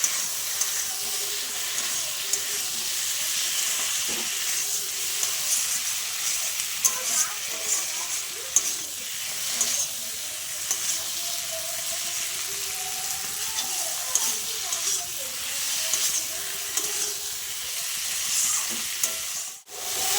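Tomato and spices sizzle and fry steadily in a pan for a fisch curry with potatoes, with occasional stirring scrapes, close and continuous throughout.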